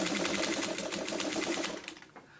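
Sewing machine stitching a quilt, a rapid, close mechanical chatter of the needle for about two seconds before it slows and stops.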